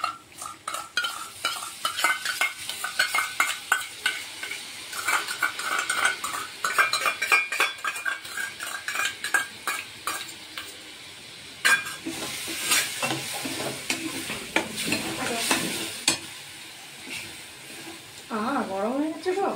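A spoon scrapes and clatters against a kadai while chana masala cooks with butter and yogurt. Rhythmic stirring strokes run over a steady sizzle, and a voice briefly speaks near the end.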